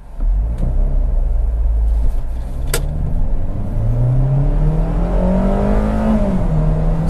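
A 2020 Kia Rio EX revs and pulls away hard from a standstill with traction control off, its pitch climbing steadily through the gears over a constant loud rumble, with a sharp click early on.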